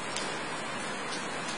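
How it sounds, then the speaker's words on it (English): Heavy rainy-season rain in Africa falls as a dense, unbroken hiss, steady and fairly loud throughout with no voices. "The morning comes with a lot of rain, heavy rain"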